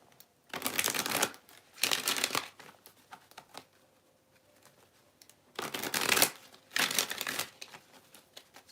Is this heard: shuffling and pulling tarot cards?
yes